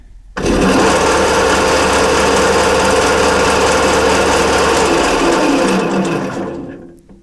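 A chaff cutter fitted with cut leaf-spring pieces in place of its knives spins up and runs, a loud steady mechanical whirring drone for several seconds that winds down toward the end.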